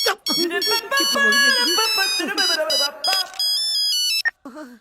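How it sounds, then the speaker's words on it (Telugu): A mobile phone rings with a loud melodic electronic ringtone that plays continuously for about four seconds, then cuts off abruptly, followed by a brief voice. "ఫోన్ ఎలా మోగిందిరా?"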